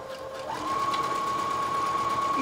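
Sewing machine stitching a single row on an armchair sewing caddy, a steady high whir that ramps up and holds at an even pace, fairly quiet and close.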